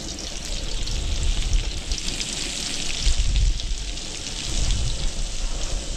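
Mixed seafood fries in a pan and gives a steady, dense sizzle for the whole stretch. Nobody speaks over it.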